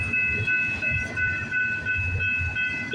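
A CPKC freight train rolls past at Bronte, Ontario with a steady low rumble of railcars and rhythmic wheel clatter, plus a sustained high metallic squeal, loud and continuous without talk.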